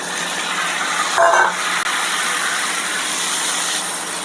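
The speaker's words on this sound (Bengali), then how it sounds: "এরপর আমি মাছগুলোকে ঢেলে দিচ্ছি।" Pabda fish pour into a hot pan of curry with yogurt and milk, giving a loud, steady hiss and sizzle that stays close and continuous, with a brief rustle of stirring, no talking.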